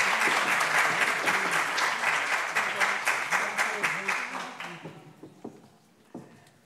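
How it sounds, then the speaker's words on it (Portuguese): A conference audience applauds at the close of a plenary session on teaching qualitative research: loud, dense clapping that thins into a few scattered claps and fades out, with a voice briefly heard near the end. "Uma salva de palmas."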